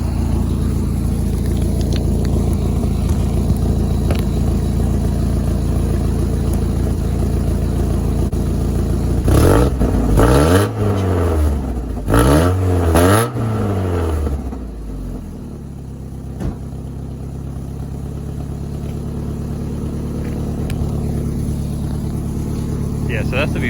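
A car engine with a hollowed-out catalytic converter idles with a deep rumble, then revs hard twice in quick succession through a loud, throaty exhaust before settling back to idle.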